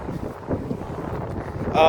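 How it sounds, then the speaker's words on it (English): Gusty wind buffets the microphone with low rumbling, and a voice is faintly present underneath. "on a windy day"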